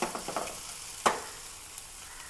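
Sardines coated in ground green peppercorn and bird's-eye chilli paste fry in a pan, with a soft continuous sizzle and a few sharper crackles and spits, one louder pop standing out near the middle.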